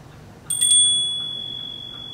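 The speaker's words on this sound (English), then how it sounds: "That was the bell that we heard" A small bell in an old mansion strikes one bright, high chime that rings on and slowly fades against a quiet, faint background hush.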